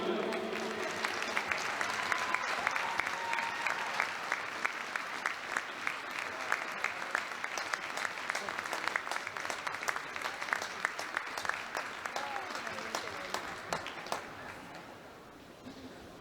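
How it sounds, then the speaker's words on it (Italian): Sustained applause from an audience at an ice show, steady clapping throughout with a light crowd murmur, tapering off slightly toward the end. "Di nuovo un grande applauso, signori"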